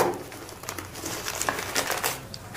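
A product packet containing an adapter is torn and crinkled open up close, giving scattered plastic rustles and crackles over about three seconds.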